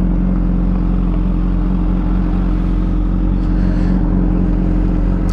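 A Triumph Trident 660 with an aftermarket exhaust idles loudly and steadily at close range at night. It gives off a deep, continuous throbbing rumble with a faint rise in revs.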